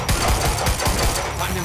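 Suppressive gunfire in the Quantum Break video game: rapid, rattling automatic bursts that repeat in quick uneven pulses, fairly loud and mixed with voices and other combat noise.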